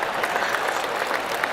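Crowd applause in a golf video game, triggered by a practice swing, rises as a steady, even wash of many clapping hands that holds at moderate volume for the whole stretch with no voices.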